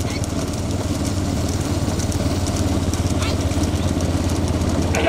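A motorcycle engine idles steadily with a low, even putter, fairly close, while people talk faintly in the background.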